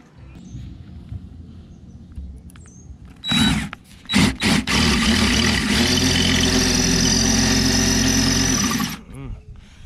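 An electric drill with a worn bit bores into the body of a Ford F350. Short bursts of whining come first, then a longer, loud, steady spin of several seconds against a quieter background.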